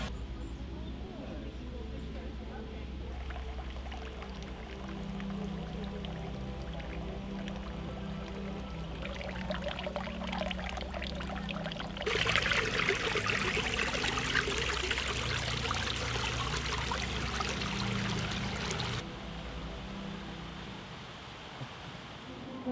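Flowing water from the natural-style water features of the Portland Japanese Garden, a steady trickling and streaming that swells louder midway, heard continuously under a low background hum.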